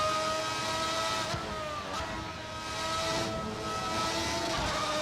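Early-1990s Formula 1 car engine in a sim racing game, a steady high-pitched whine with tonal harmonics holding at high revs, dipping briefly as it shifts and climbing again, loud and continuous with no talk.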